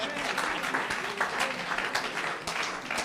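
A church congregation at a French-language Bible seminar bursts into sustained applause for Jesus, a dense crowd of clapping hands with cheering voices mixed in, steady and fairly loud throughout.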